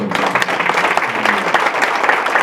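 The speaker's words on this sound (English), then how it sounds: "So again, round of applause for the youth." Audience at an awards ceremony gives a round of applause, close and loud, many hands clapping in a dense, continuous burst.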